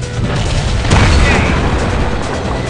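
An ammo rack detonates on an Object 140 tank in World of Tanks: one heavy, deep boom lands about a second in, over a steady roar of game noise, with a voice faintly present.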